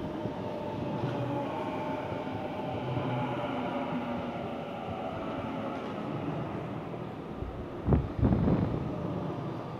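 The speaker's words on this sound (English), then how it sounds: "A72 arrived on platform number two for a homebush service, stopping at all stations." A Sydney A-set suburban train arrives at MacDonaldtown station platform two, a steady rolling rumble with wind buffeting the microphone and a brief louder clatter near the end.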